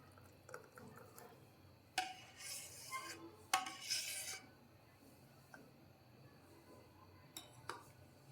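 Cooked coconut pudding (kobbari junnu) being moved into a steel bowl, with a few sharp clinks and scrapes of metal against steel spaced between quiet stretches, close and moderately loud with no talking.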